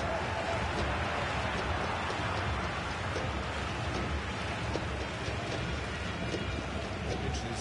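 Steady rain pours down during a FIFA video game match, a dense, constant hiss of drops filling the scene at an even level.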